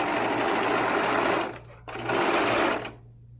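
A sewing machine stitches a seam close by, running fast and steadily, then pausing briefly before a second run that stops near the end.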